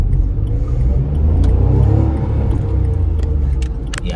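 A 2017 pre-facelift Renault Kwid accelerates out of a roundabout, its small engine droning loud and rough from inside the cabin with a deep rumble and faint rattles.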